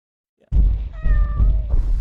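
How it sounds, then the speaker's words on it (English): A house cat meows loudly and close by indoors, a drawn-out tonal call of about a second, over steady low background noise and hum. "The cat, meow."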